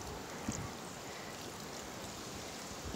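Water from a small river, steady broadband rush and gurgle as a big bucket is filled, close and continuous with no talk.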